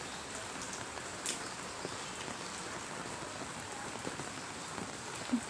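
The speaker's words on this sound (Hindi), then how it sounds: "बारिश बहुत ही देर से शुरू हुई हुई है" Light steady rain patters on surfaces under a dark cloudy sky after a long delay, a soft continuous hiss with scattered drops and no voices.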